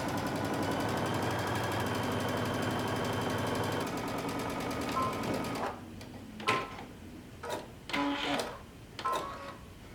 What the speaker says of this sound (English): we're going to sew our center back seam closed